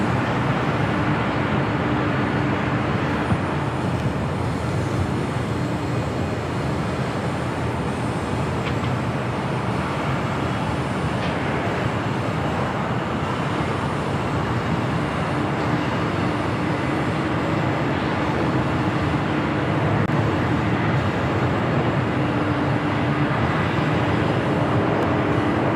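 A Boeing 767-300ER airliner bound for JFK takes off from runway 25 right at LAX. Its jet engines give a loud, continuous broadband roar that holds steady for the whole stretch, with no voices.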